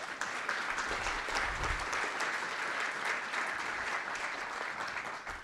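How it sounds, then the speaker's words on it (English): Soft, sustained clapping from an indoor audience at a talk on Portland's 1970s and 80s underground press, honouring Mary Wells, fairly distant and even with no break. "Mary deserves a great round of applause"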